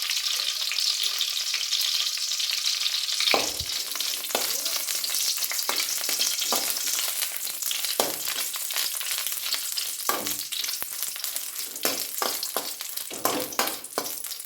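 Nine Byadgi dried red chillies frying in oil in a pan, a dense steady sizzle with repeated scraping stirs throughout, close and loud with no talking.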